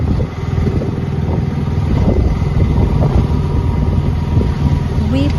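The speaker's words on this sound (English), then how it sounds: "Here we go on the auto rickshaw." Auto rickshaw (tuk-tuk) ride in Kerala on the way to Marari Beach, a loud continuous putter of a small engine with wind rush, heard from on board, with faint voices underneath.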